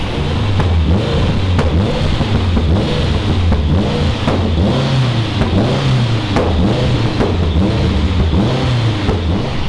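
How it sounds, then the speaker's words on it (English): Lancia Delta race engine held off idle with constant blips, a loud, close, rhythmic rise and fall of revs repeating every second or so over a rough mechanical drone. "because it's a race engine, you can't let it idle. It's got to constantly just have a little heartbeat of rev"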